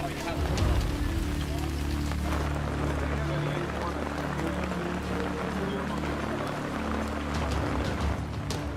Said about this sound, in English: When did this rain start?